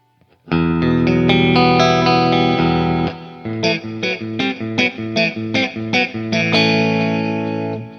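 A distorted electric guitar with a glass body, on the middle pickup position, rings out with a sustained chord, then plays a run of choppy, rhythmic chords before a final held chord, with a chorus-like shimmer.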